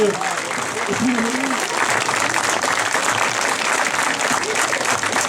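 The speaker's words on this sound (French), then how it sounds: "tu vois qu'il y a un petit peu de public quand même pour t'applaudir" A small outdoor audience at a Napoleonic commemoration in the Vosges applauds steadily and evenly throughout, with voices talking over the clapping.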